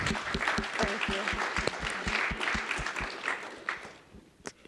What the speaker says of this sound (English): let's give a third round of applause for Senator Diane Savino